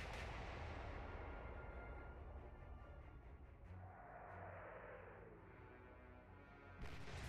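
Naval artillery gunfire in a Battle of the Atlantic video game, a heavy booming blast that rumbles and fades, with another sharp report near the end.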